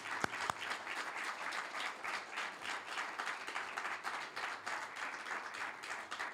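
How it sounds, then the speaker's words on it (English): A crowd applauds steadily, dense clapping sustained throughout at a fairly even level, with no voices on top. "please, a nice round of applause for our judges"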